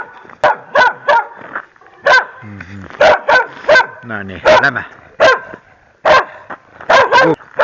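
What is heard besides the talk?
another dog barking at walkers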